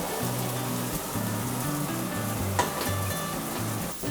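Onions frying in hot oil while fries are made, a dense continuous sizzle with crackling bursts, steady and fairly loud throughout, with a faint low rhythmic hum running underneath and no voices.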